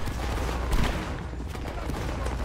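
Distant musket volleys crackle in the video game Napoleonic Wars, a Spain versus Italy battle, as a dense continuous rumble of gunfire with one louder burst, no voices on top.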